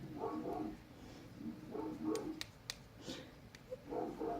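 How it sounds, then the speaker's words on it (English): An angry pet dog barks and growls in bursts indoors, several close, moderately loud volleys spread through the moment with short gaps between them. "Oh, my dog is angry."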